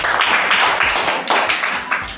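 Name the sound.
students clapping for Geeta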